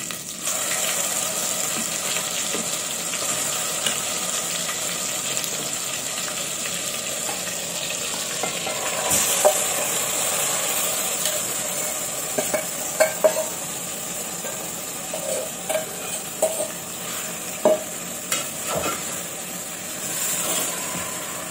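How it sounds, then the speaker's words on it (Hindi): Chicken marinade stirs and sizzles in a hot ginger-garlic paste tadka for chicken biryani, a continuous loud frying hiss with scattered scraping and clinking from the spoon throughout. "फिर मैं ये चिकन का जो मैरिनेशन है वो इसमें डालूंगी।"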